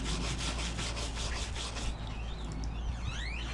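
A wire brush scrubs slag off a flux core weld, a steady harsh rasping scrape with a quick back-and-forth rhythm, close and fairly loud, sounding alone.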